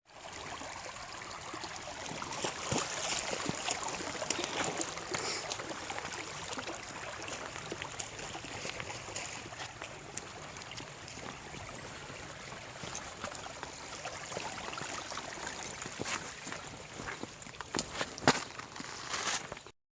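River water rushes and trickles continuously at a hiking river crossing on the trail from Kyles Landing to Compton Overlook in Arkansas, a steady close wash with occasional splashes and no talk.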